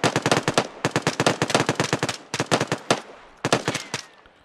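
Automatic gunfire rings out in an Arma 3 military simulation, with several rapid bursts of close, sharp shots separated by brief pauses.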